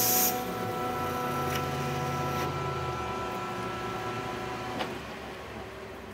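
A metal lathe taking a roughing cut on stainless steel with a worn insert, a continuous machine hum and hiss with a steady tone, fairly loud and unbroken.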